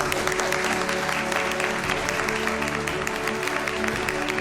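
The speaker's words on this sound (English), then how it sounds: "Applause, please." Steady, full applause from a crowd at a Korean War veterans appreciation ceremony, dense clapping continuing evenly with a low hum and faint tones beneath.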